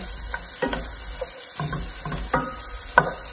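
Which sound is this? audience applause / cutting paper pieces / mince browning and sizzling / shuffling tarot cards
mince browning and sizzling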